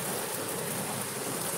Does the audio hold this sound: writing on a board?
no